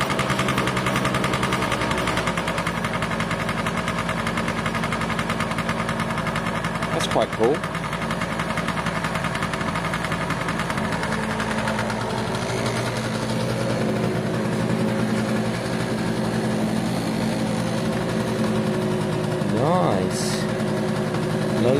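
Piaggio Vespa scooter engine idles steadily up close after starting, a continuous buzzing two-stroke drone with faint vibration, while people talk briefly over it.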